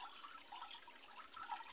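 Hot spring water driven out by a pump pours in a steady, faint, hissing splash that runs without pause, with no talking.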